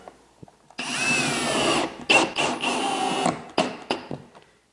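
A power drill drives screws into faux stone wall panels, whirring steadily for a couple of seconds and then cutting in and out in several short, close bursts.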